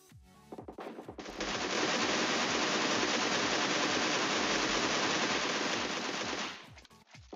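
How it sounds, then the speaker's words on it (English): Rapid automatic fire from a Groza assault rifle in PUBG Mobile. A few separate shots lead into a sustained, loud burst that lasts several seconds and then stops abruptly, followed by a few scattered pops. "Let's move on to next weapon, which is Groza, an assault rifle which can only be found in crates."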